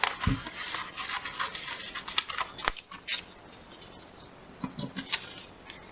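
Scissors snip through paper for a butterfly suncatcher craft, a few crisp close cuts and small rustles spaced unevenly over a quiet background.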